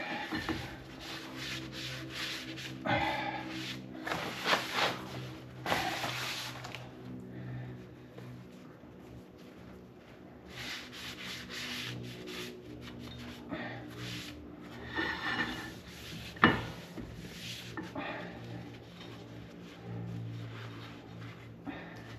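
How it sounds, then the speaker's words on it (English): A rag rubs and wipes grease and gunk off car parts during a Steeda camber plate and wheel spacer install, giving steady close scrubbing strokes with irregular bursts and pauses and no talk. "I just have a rag here to kind of wipe all this down."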